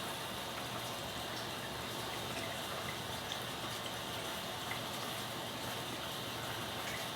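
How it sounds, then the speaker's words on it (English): Cooling water trickles and gushes steadily onto the pre-condenser of a still while sweet potato vodka is being distilled, a constant broadband wash of flowing water with no talk. "I'm gonna start easing the water onto my pre-condenser."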